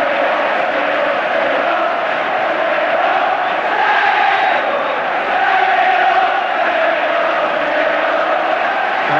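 A large football crowd at a Derby County against Fulham second division match in 1982-83 chants 'staying up' in a continuous loud roar, a massed rhythmic swell of voices filling the stadium without break.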